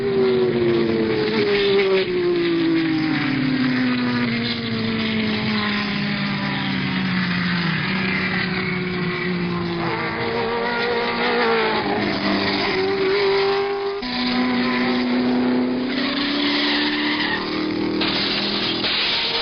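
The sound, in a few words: race cars including Ferrari and Porsche racing at Sebring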